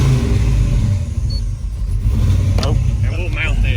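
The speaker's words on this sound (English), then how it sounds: "And then it'll be like regular revving it." A Chevrolet S10 with a 5.3-litre V8 and nitrous revs loudly and close by, a rough steady rumble that rises near the end, while a person talks over it.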